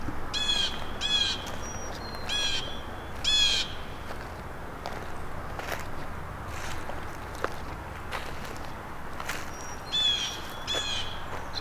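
In a front-yard community garden, a crow caws several times in short bursts at moderate distance, with soft rustling and footstep-like sounds between the calls.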